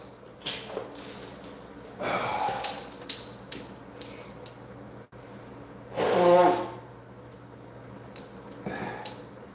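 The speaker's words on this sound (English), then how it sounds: "I gotta blow my nose." A loud, wet nose blow, a honking snort with broadband rush, comes midway after scattered clinks and light handling noises, with faint background hum.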